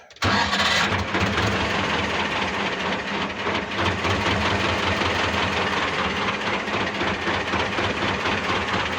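A T-16 tractor engine is cranked and fires after a brief moment, then settles into a steady, loud, close rumbling idle that runs continuously on its own.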